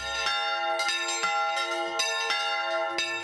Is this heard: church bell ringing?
yes